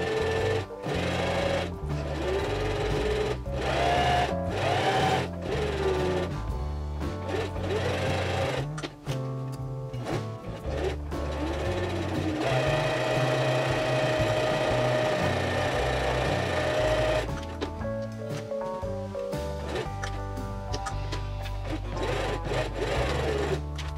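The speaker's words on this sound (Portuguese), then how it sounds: "só passar uma costura em todo o contorno dela agora" Sewing machine stitching steadily around the edge of a fabric hair bow, a continuous close mechanical whir with brief pauses and restarts throughout.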